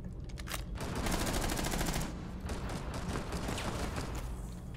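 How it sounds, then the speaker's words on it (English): Sustained automatic gunfire into a wall in the video game Rainbow Six Siege, rapid continuous bursts of shots lasting several seconds, dense and steady with no talk. "I know I'm shooting the wall"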